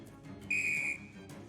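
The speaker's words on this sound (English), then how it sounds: "So let's whistle." A single sharp, steady whistle, about half a second long and loud against a quiet background, blown to call for backup in the video game Shadows Over Loathing.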